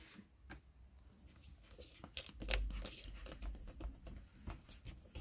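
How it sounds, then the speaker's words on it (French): Double-sided tape being pulled and torn off a roll inside a van during a storm, several short ripping and crinkling bursts up close, fairly quiet, with no one talking. "je vais mettre du scotch double face pour qu'il soit bien plaqué"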